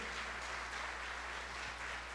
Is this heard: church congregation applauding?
yes